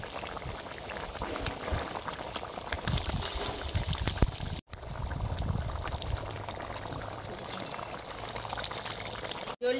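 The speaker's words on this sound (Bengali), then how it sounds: "মাছটা দিয়ে 2 মিনিট ফুটিয়ে নেব।" A pot of Bengali rui fish and cauliflower curry bubbling at a steady boil, a dense, continuous simmering burble with a brief break midway.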